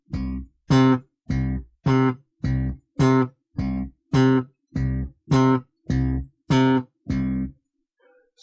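A slap bass plays a run of eleven short staccato notes in even rhythm, each one muted quickly, loud and alone, followed by silence.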